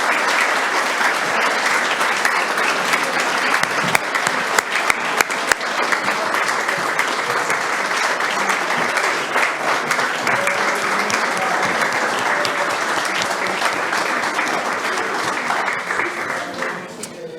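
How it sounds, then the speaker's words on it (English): A school board meeting audience gives a long, loud, steady round of applause for students recognised for their TMEA band contest placements, a dense wash of clapping that holds for about seventeen seconds and fades slightly at the end. "Please join me in a round of applause for these students."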